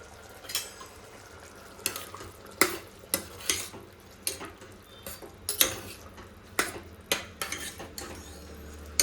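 Eggplant sizzles softly in a pan of spice tempering while a spoon repeatedly scrapes and clinks against the metal in an irregular stirring rhythm.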